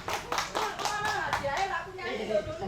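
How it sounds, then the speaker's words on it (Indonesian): A discussion event audience claps for a correct answer, a steady patter of hands heard fairly faintly beneath a voice talking over it. "Tepuk tangan buat Bapak yang udah jawabnya benar."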